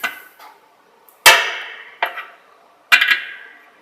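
A wrench works on a compressor check valve in short bursts: several sharp metallic clanks and ratcheting scrapes, spaced irregularly about a second apart, close and crisp with quiet gaps between strokes.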